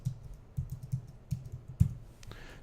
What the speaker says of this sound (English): It's weird typing with my left hand.